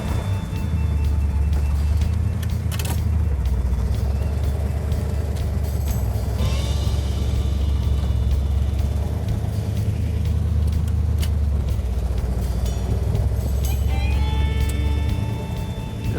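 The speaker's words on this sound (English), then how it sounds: "Now we're gonna go ahead and get the car running and put it in gear" A car with its original numbers-matching engine idles in gear with a low, steady rumble throughout, broken by occasional clanks and a brief squeal, close by with no talking.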